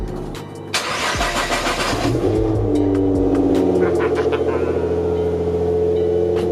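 A Nissan GT-R engine cranks and catches after a battery change, then settles into a steady, loud, close idle with a rumbling low drone that carries on to the end.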